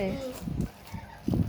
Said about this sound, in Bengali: মুরগি ডিস্টার্ব করছে,